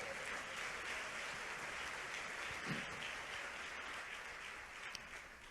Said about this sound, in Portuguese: Aplauda ao Senhor Jesus se você quer